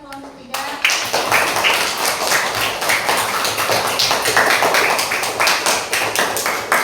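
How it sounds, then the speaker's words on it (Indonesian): A classroom of students claps for group 3 during a lesson, dense rapid hand-clapping beginning abruptly after a short spoken phrase and continuing steadily and close at hand, with a few voices mixed in. "tepuk tangan buat kelompok 3"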